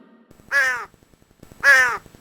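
A cartoon crow gives two loud, harsh caws about a second apart, each clear and alone against a quiet background.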